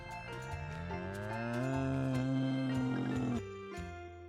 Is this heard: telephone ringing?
no